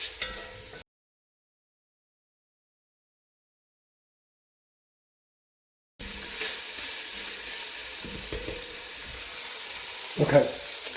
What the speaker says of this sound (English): Just going to stir these around a bit and brown them off.